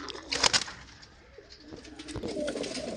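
Pigeons kept for sale coo softly nearby in a few low, rolling calls, faint against a quiet background.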